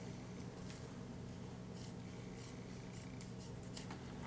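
Scissors snip and rasp through material for an ALICE pack rebuild, producing a run of quick, faint cuts close by against a steady background hum.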